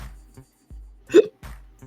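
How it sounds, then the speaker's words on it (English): A single sharp hiccup from a woman, loud and close, breaking a pause between bits of speech. "that was a hiccup, y'all"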